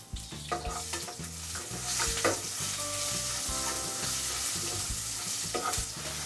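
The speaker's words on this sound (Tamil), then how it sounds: "நம்ம எடுத்து வச்சுருக்க காஞ்ச மிளகாவையும் கடுகு உளுத்த பருப்பையும் இப்போ சேர்த்துடலாம் எண்ணெயிலேயே" Dried chillies, mustard seeds and urad dal sizzle and pop in hot oil with steady loud frying noise and occasional scraping stirs of a utensil against the pan.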